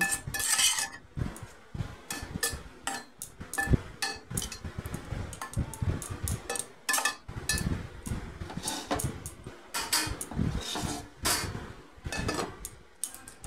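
Metal utensil scrapes and clinks against a pot while washed lime leaves are mixed into food, giving irregular close knocks and scrapes over about thirteen seconds with short quiet gaps and no voices.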